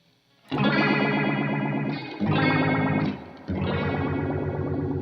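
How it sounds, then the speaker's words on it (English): Electric guitar through a Walrus Audio Fundamental chorus/phaser pedal with the rate at maximum, three sustained strummed chords in a fast, warbling, watery swirl, loud and clear with no talk. "That's wild. Kind of an underwatery sound."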